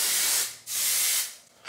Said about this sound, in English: I also put this Keratase Texture Finish Spray from Wow 2.